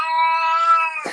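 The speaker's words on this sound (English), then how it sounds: "that's my cat" A house cat lets out one loud, drawn-out meow that rises into a caterwaul, close to the microphone, ending in a brief breathy rustle.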